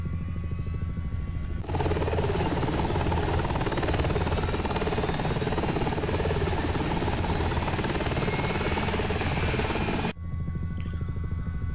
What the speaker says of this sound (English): So we're gonna start the engines again, give it some more time, right?